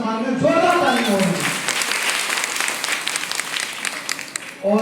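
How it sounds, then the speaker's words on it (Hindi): An audience at a meeting bursts into dense, sustained clapping that carries on loudly throughout, following a voice at the start, with speech returning right at the end. "तो मैं चाहूंगा एक बार अपने अपने सीनियर के सम्मान में जोरदार ताली हो।"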